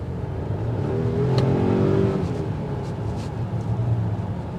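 A 2023 Volvo XC90 Recharge plug-in hybrid SUV accelerates hard from around 20 mph, its engine note climbing steadily over road and wind roar inside the cabin, fairly loud and with no talk.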